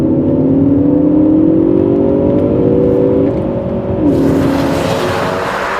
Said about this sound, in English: that fine sound comes from a 4-cylinder turbo engine